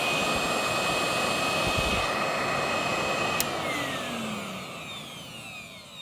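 Numatic Henry Cordless vacuum cleaner switched to its high setting, a loud continuous whooshing motor roar with a steady whine and a faint click, gradually easing slightly toward the end.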